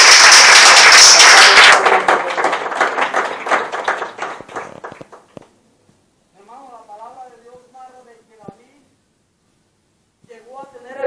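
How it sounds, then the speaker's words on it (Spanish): A church congregation at an evangelistic service claps loudly for about two seconds, then the applause thins and fades out, leaving a voice speaking with pauses. "¿Cuántos le brindan un fuerte aplauso a Dios?"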